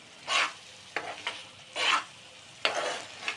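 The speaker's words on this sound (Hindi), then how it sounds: "इसको भी मिक्स कर देंगे और 1 मिनट के लिए अलट पलट करेंगे" A utensil stirs and scrapes through chickpeas in a hot frying pan, in four bursts of rough, sizzling scraping separated by short pauses, close by with no talk.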